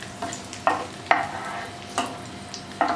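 Raisins fry in ghee in a pan under a soft continuous sizzle, punctuated by about five sharp scraping stir strokes at irregular intervals, close and alone without speech.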